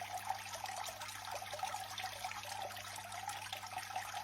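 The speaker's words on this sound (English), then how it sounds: "raise the back. And you'll see the black sand just trickle away." Water and black sand trickle steadily off the raised back of a miller table used for gold panning, making a soft, continuous wash of running water with no voices.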